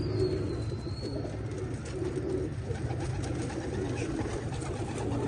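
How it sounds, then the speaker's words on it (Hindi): Teddy pigeons coo softly in a loft, low murmuring calls repeating under a steady background hum with a brief high chirp near the start. "ये टेडी कबूतर आ गए।"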